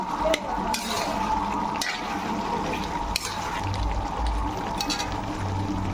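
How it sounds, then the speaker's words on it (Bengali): Meat being sautéed and stirred in a large wok for a picnic meal, with a steady sizzling hiss, soft scraping of a spatula and occasional clinks close by, continuous throughout. "দেখতে পাচ্ছ কষানো হচ্ছে কড়াইটাও দেখতে পাচ্ছ বড় কড়াইতে মাংস রান্না হচ্ছে"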